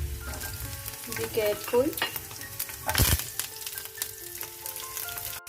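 Garlic dropped into hot oil, bursting into a loud crackling sizzle with a sharp spike partway through, then settling into steady frying under a brief spoken warning.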